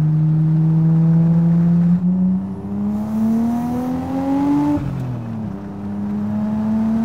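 A Nissan Skyline R34 sedan with a tuned RB25 engine of 330 hp accelerates hard. The engine drone climbs steadily in pitch through the gears, with a brief drop at a shift, loud and continuous from inside the car.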